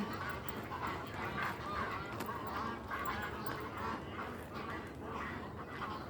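Geese honk at a suburban park lake in a fairly continuous chorus of calls, moderately distant, over outdoor background noise, with no talking.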